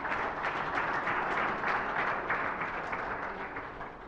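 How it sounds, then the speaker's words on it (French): Sustained, fairly distant applause from the audience at an international colloquium, a steady wash of many clapping hands that fades slightly at the close. "Je voudrais que vous applaudissiez la chef pour cela."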